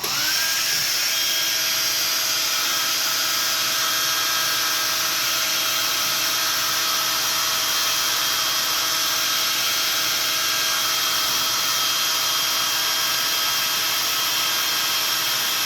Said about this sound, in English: So I'm going to get this with a blow dryer.